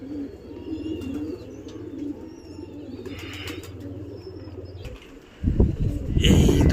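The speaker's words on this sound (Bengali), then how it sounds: "এইখানেও পায়রা ছেড়ে রেখেছি, এখানে ধাড়ি পায়রা খাচ্ছে" Pigeons coo steadily in a loft where adult birds are feeding, a low rolling murmur that runs for several seconds before a louder, closer burst of rustling and fluttering takes over at the end.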